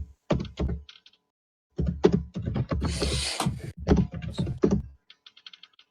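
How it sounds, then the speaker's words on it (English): Computer keyboard typing in bursts of rapid key clicks and thunks, with short pauses between runs, fairly close and clear with no talk over it. "What kind of keyboard is that?"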